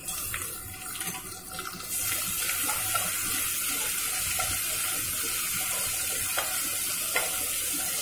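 Ginger, green chili and garlic paste frying in a pan for a fish-head muri ghonto, a steady broadband sizzle with occasional stirring scrapes, loud and close throughout, with no voices.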